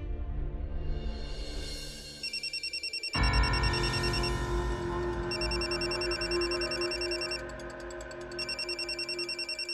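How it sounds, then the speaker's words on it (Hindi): A mobile phone rings in a repeating electronic ringtone pattern over layered background music, loud and continuous throughout, with no speech. "कब से तुम्हारा फोन बज रहा है, तुम फोन नहीं उठा रही हो"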